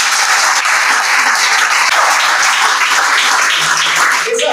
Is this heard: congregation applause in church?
yes